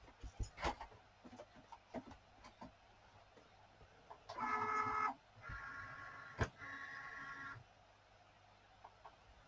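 An electronic cutting machine slicing paper for a shadow box gives faint, intermittent mechanical whirs and buzzing strokes, with scattered soft clicks in a quiet room.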